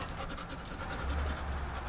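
A dog pants rapidly and close by, quick rhythmic breaths with a low rumble building near the end.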